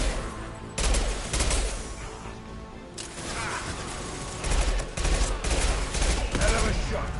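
Bursts of gunfire from the video game Mass Effect 2, loud repeated shots in clusters with short pauses, a volley near the start and several more toward the end.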